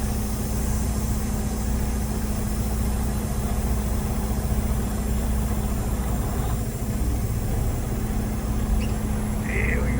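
A tractor-trailer truck engine rumbles steadily as the rig pulls forward slowly at about 5 mph during a service brake test, a constant low idle-like drone throughout with no speech.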